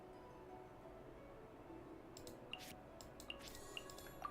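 Faint, sparse droplet plinks of water in Genshin Impact, a few short high ticks spread over a quiet hum in the last couple of seconds.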